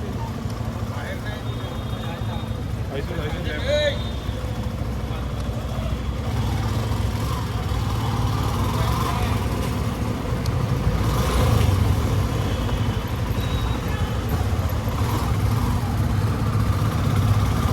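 A motorcycle engine idles nearby with a steady low rumble throughout at a two-wheeler parking area in Mumbai, while people talk in the background.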